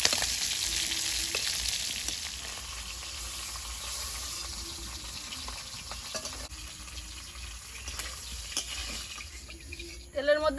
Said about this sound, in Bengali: তেলের মধ্যে দিয়ে দেবো গোটা জিরে, কুড়ানো রসুন।